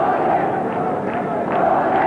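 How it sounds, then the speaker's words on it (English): A cricket crowd at a Pakistan v New Zealand semi-final in Sharjah keeps up a steady wall of chanting and cheering, dense and continuous throughout, with rhythmic swells of voices rising within the din. "As you can hear, the crowd in tremendous form"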